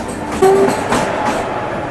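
A Sewagram Superfast Express train on the Mumbai–Nagpur route, with WAG7 banker locomotives attached, gives a loud, close, steady rumble of rolling stock, with a faint brief squeal near the start.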